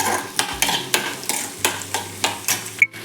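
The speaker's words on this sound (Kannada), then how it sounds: "ಸ್ವಲ್ಪ ಜೀರಿಗೆ ಫ್ರೈ ಮಾಡಬೇಕು ಇದನ್ನು" Cumin seeds frying in a pan, stirred in regular, even scraping strokes, about eight in quick succession over a soft sizzle.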